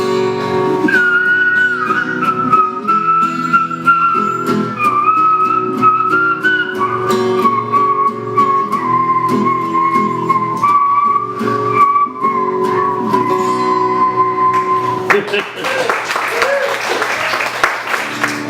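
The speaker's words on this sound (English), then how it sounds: "Whistle one more time." A person whistles a clear, sustained melody over accompanying music, ending as applause and cheering break out.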